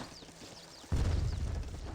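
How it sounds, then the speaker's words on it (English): Mortar artillery shots landing in an Age of Empires 3 battle, heard as a sudden loud boom about midway that gives way to sustained rumbling impacts over faint game chirps. "And Mortar finds some shots onto it."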